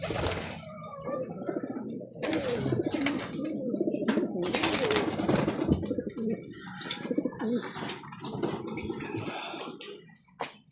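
Pigeons in a breeder loft coo continuously in dense overlapping calls, near and fairly loud, with occasional clatter and chirps mixed in.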